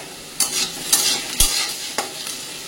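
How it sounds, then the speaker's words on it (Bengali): Diced potatoes and peanuts fry together in mustard oil with a constant bright sizzle, punctuated by four or five distinct spatula scrapes and stirs, close and fairly loud with no talk. "আলুটা দিয়ে ভাজা হচ্ছে, আলুর মধ্যে আমি একসাথে বাদামটাকেও ভেজে নেব।"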